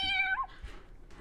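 A young kitten on a farm meows twice, a clear rising-and-falling cry followed by a softer, shorter one, close and alone.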